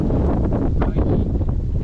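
Strong wind buffets the microphone in Ormiston Gorge in the West MacDonnell Ranges, a loud, continuous roar with gusty swells that fills the whole stretch.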